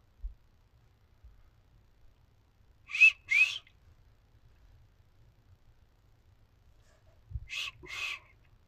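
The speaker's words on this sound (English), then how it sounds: "It's got a whistle." Two paired whistles sound in quiet woods during a Bigfoot expedition on the Coquille, each a short double note, the second pair arriving several seconds after the first, fairly distant against near silence.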